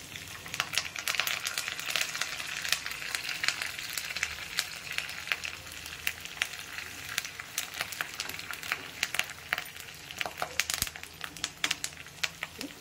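Curry leaves crackle and sizzle in hot tempering oil with peppercorns for curd rice, a continuous dense frying hiss with sharp pops scattered throughout, close and steady with no talking.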